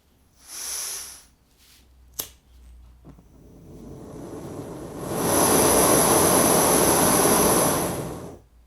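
A portable cook kit stove burner roars steadily for about three seconds, loud and close, after a few brief clicks and a short hiss of ignition beforehand.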